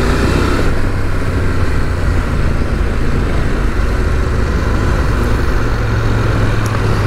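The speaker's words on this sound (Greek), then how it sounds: "Εδώ δεν έχει στον ήχο την ένταση του κοβέ στον κινητήρα. Είναι πιο μαλακό για τα αυτιά, πιο τρυφερό." A CFMoto 800MT X motorcycle engine drones steadily and loudly while riding, with broad wind and road roar at constant level and no pauses or speech.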